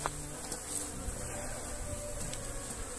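Bees swarming around beehives, a dense continuous buzz close to the microphone with individual insects whizzing past, steady and fairly loud with no voices.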